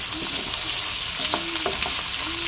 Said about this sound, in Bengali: এইদিকে সর্ষের তেল আমার গরম হয়ে গেছে, এবারে আমি আলুগুলোকে আগে ছেড়ে দেবো।